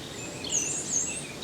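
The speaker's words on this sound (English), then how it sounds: "You can also focus on the bird sounds." Birds sing outdoors in the distance on a calm day: high thin chirps and trills, faint against a steady background hush.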